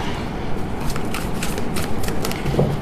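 Tarot card drawn from a deck, a run of close papery slides and flicks as cards are shuffled and pulled, crisp and fairly loud.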